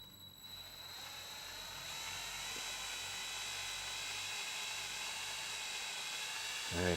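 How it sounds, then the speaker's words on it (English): A drill bores into a power supply part from a brown Macintosh IIsi, a steady high-pitched whine held for several seconds, close and loud, ending in a brief rattling burst. "I'll drill out this side."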